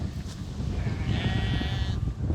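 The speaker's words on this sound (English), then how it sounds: "How you doing, sheep?" A sheep gives a single drawn-out, wavering bleat lasting about a second, fairly close, over a low rumbling background.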